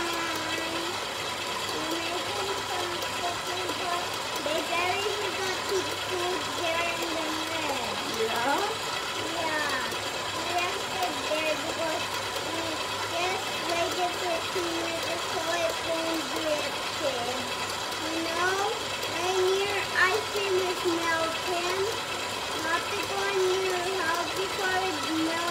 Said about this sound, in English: So we'll just mix it.